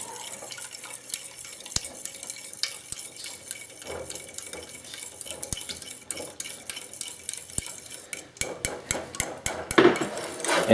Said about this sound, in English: Just pop the element up to medium heat and you want to mix in the egg.